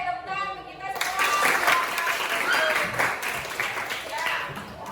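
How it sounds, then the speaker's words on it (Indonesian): A classroom of students breaks into steady applause that lasts several seconds, dense and close, while a teacher's voice carries over the clapping. "Oke, tepuk tangan kita semua."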